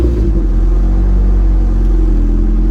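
A Honda car engine with a B-series VTEC kit and new distributor setup runs loud and steady at idle right after starting, a continuous low rumble with no talk over it.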